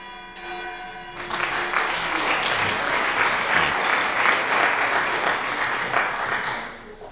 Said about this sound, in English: he gave a round of applause